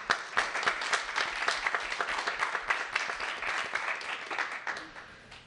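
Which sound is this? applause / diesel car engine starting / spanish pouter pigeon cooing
applause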